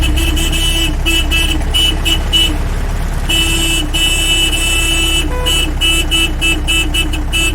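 A vehicle horn honks repeatedly in short and longer blasts over a running engine, loud and close, in an irregular insistent rhythm.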